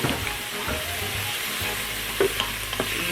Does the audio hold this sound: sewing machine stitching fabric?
no